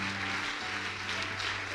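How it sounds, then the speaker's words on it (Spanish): A church congregation applauds loudly at a worship service, a dense, continuous wash of clapping that fills the whole short stretch without any pause. "Dele otro aplauso fuerte a nuestro Rey."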